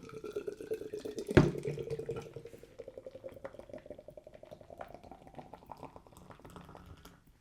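Nitro Irish dry stout beer is poured hard from a can into a glass, a close, quiet stream of liquid with a sharp clink early on, then a softer, steady trickle that tapers off.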